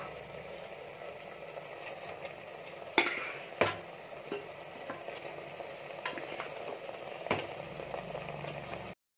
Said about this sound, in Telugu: ఇప్పుడు మనకు ఇది బాగా ఫ్రై అయింది కదా, ఇప్పుడు దీనిలో మనం ఈ కలిపి పెట్టుకున్నటువంటి చికెన్ని వేసేసుకుందాం.